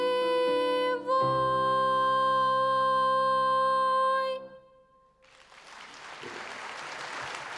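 Audience applause at a talent gala concert, a soft wash of clapping that swells in after a sustained electronic chord ends and continues steadily to the close.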